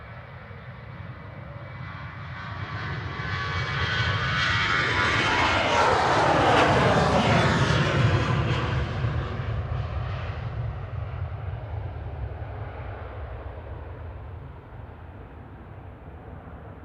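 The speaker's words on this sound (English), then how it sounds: "Departing now on 23 left, we have got Ryanair heading out to Mahon" A Ryanair jet airliner departs runway 23 left at Manchester Airport, its engine roar swelling to a loud peak as it passes, then fading gradually into a distant rumble.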